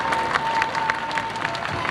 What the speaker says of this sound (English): keep your applause going